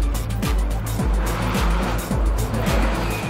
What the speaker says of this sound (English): Stefan starts the ascent to the Col de Turini, determined to prove he can drive like a champion